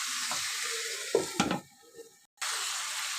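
Washed chicken pieces going into a pan of spices for a chicken curry with new potatoes, sizzling and frying steadily, broken by a few clattering stirs and a brief quiet gap before the hiss returns.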